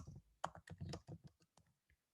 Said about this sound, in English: I'm busy typing it in here.